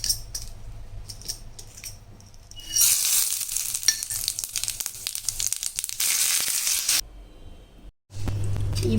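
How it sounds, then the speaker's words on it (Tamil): Mustard seeds and urad dal frying in hot oil for a South Indian chutney tempering, a loud continuous sizzle with crackling pops that runs for several seconds, cuts out briefly and then starts again. "இப்போ நம்ம எண்ணெய் விட்டு இதில் கடுகு உளுத்தம்பருப்பு போட்டுக்கலாம்"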